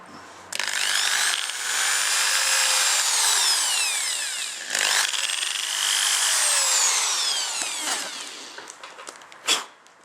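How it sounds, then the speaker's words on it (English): A power drill whines loudly through wood in two long bursts while fitting pickups and bridge to an ST-1, separated by a brief pause, then winds down with a few light clicks at the end. "So that just needs to sit in there, and you drill 2 holes."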